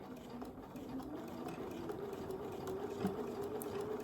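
A sewing machine runs steadily, stitching binding onto a quilt in the ditch between the binding and the quilt, with a continuous even whir at moderate loudness and no speech.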